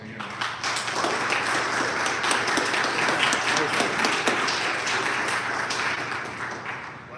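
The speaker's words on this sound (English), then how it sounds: "big round of applause again" Steady applause from a crowd, a dense wash of clapping that carries on for several seconds at an even level.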